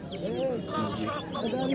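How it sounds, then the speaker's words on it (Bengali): A young native desi rooster clucks in a run of close, bright calls over a farmyard background, with faint voices nearby. "একেবারে দেশি মোরগ মোরগের মতো মোরগ"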